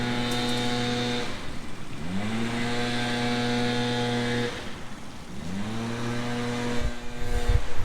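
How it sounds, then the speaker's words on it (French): A leaf blower's small engine whines steadily nearby at a park playground, its pitch dropping and climbing back up twice as the throttle changes. "à part le souffleur de feuilles là, qui est en train de nettoyer au niveau des jeux"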